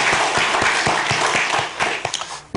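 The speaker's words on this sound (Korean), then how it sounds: "우리의 예배를 받으시는 하나님께 우리 영광의 박수를 한번 올려드리시겠습니까?" A church congregation claps in praise at the close of a worship service, a dense, sustained wash of applause that thins and breaks into a few scattered claps near the end.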